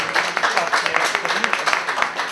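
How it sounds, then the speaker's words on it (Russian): Audience applause at the opening of a Parimatch venue in Odesa, a brisk run of close, overlapping hand claps with a lively, uneven rhythm lasting a couple of seconds. "Ну, это аплодисменты."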